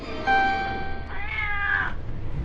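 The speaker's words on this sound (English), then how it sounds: "Now Herman meowed, but that didn't wake the captain" A cat meows twice in quick succession, close by, with a drawn-out, slightly rising cry and a faint hum in the background.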